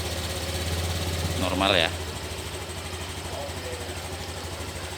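A Honda Beat scooter engine fitted with a CR7 alarm idles with a steady low, even thrum after starting, with a brief whirring rise partway through, and someone speaks briefly over it.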